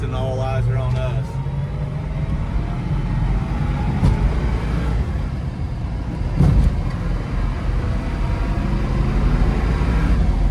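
A Grabber Blue 1970 Ford Mustang Boss 429 driving on the road, its steady engine rumble and road noise filling the whole stretch, with a voice talking over it.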